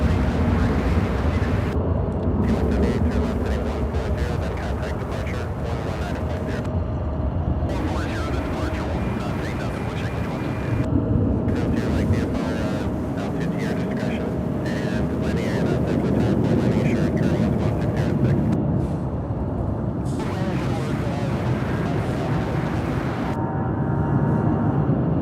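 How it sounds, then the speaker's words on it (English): An American Airlines jet bound for San Juan rumbles at Charlotte-Douglas airport as a broad, steady roar under gusty wind noise on the microphone, continuous and fairly loud throughout. "this one here going to San Juan, American Airlines Flight"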